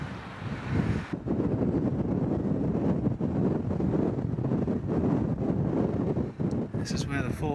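A strong northerly wind blasts across the microphone on the north Kent coast, a loud, steady roar of buffeting gusts that barely lets up, with a voice speaking under it.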